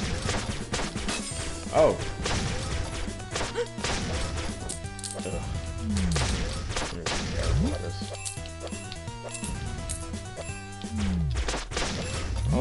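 Bombs going off in the fast-paced video game Flinthook, a string of loud crunchy blasts and thuds scattered through busy game music, with a brief exclamation from a player.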